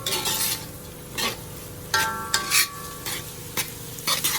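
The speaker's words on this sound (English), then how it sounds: "I want my garlic flavor to come out. So give that a stir." Garlic, onion and paneer sizzle in a pot while a utensil stirs and clanks against the metal, irregular scrapes and knocks over a steady frying hiss, close up with no speech.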